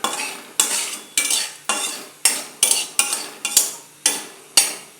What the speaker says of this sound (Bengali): লঙ্কাগুলোকে একটু লাল করে ভাজবো।